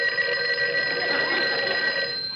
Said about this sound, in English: What's that? The phone.